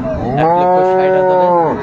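A dairy cow at the Ambari cattle market in Dinajpur gives one loud, close, drawn-out moo lasting nearly two seconds, rich and harmonic with a slight rise and fall.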